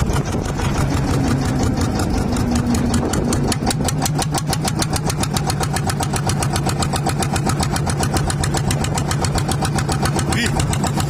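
A gas-powered engine revs loudly and continuously under the throttle, a rapid, even mechanical pulse that holds steady throughout, with a brief voice near the start.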